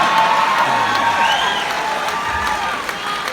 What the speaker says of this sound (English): you're only the second audience to applaud Elias when he's like,